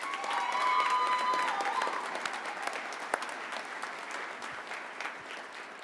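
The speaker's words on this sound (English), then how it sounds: "She deserves a huge round of applause." Audience applause at a Montana FFA State Convention general session for the convention president, Kristen Swenson: a dense, steady round of clapping from a large crowd that stays strong across the whole stretch and eases slightly toward the end.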